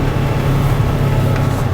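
A slow, small car's engine drones loudly and steadily at full throttle, with a low, strained rumble that runs close and constant for under two seconds before cutting off.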